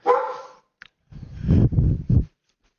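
A dog barks indoors: one long bark at the start, then a tiny yip and three loud, close barks in quick succession, with a short quiet gap between them.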